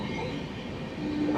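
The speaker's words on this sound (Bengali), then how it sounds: "এদিকের যে ট্রেনটা সেটা পাস হচ্ছে" A passing train near Panskura junction on the Howrah to Puri route gives a steady loud rumble with rolling wheel noise and a brief metallic squeal near the end, heard from close by.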